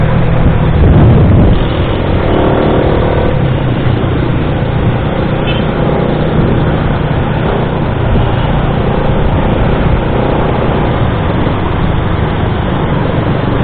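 A Rusi Flash 150X motorcycle rides through city traffic, a loud, constant engine drone mixed with rushing wind and road noise, heavily muffled and steady throughout.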